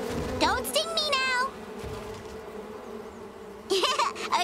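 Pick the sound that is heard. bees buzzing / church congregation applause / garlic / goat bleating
bees buzzing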